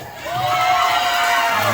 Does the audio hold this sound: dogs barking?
no